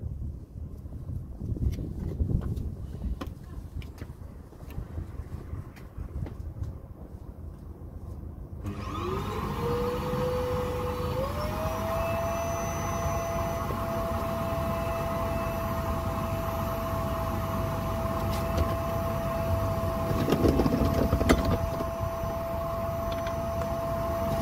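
A household vacuum cleaner switches on partway through to hold engine oil in place during sump plug work on a 2001 Audi TT 1.8T Quattro Mk1, its motor spinning up to a loud, steady whine after quieter workshop rustling.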